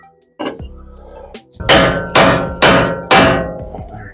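Ball joint popping loose as a Dodge RAM truck control arm is lowered under tension during a leveling kit install; a dull thunk, then four loud, sharp metallic bangs about half a second apart, close to the microphone.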